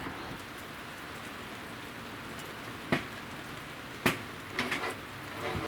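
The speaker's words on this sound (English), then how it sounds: "It's raining out here." Steady rain falling outdoors around a Pajero 4WD during a rear door table build, an even close wash of patter with a few sharper knocks and taps standing out toward the end, no talking.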